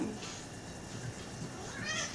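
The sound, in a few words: cat meowing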